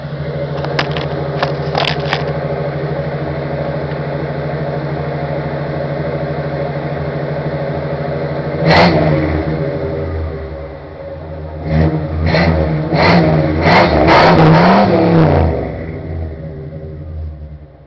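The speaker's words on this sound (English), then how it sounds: "so you can hear how it sounds when it's revved up" 1984 Oldsmobile 98 Regency with 21k original miles, idling steadily outdoors in the cold before several engine revs rise and fall, close and fairly loud with a few clicks and knocks.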